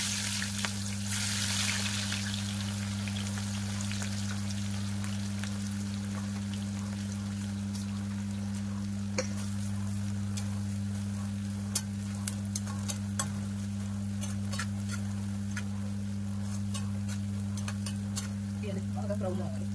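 Sliced onions frying in oil in a pan for prawn biryani, a steady close crackling sizzle that runs throughout, with occasional sharp pops and stirring clicks over a low constant hum.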